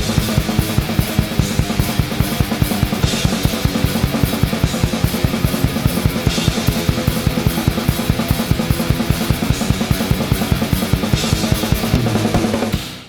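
A recorded metal band mix of drums, guitars and bass plays loud and dense, with rapid driving kick drum hits under distorted guitars throughout, no voices.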